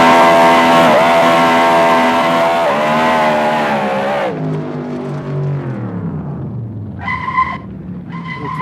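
A car engine screams at high revs in third gear, loud and sustained with tire squeal, then the revs drop away and wind down, ending in a few short chirps.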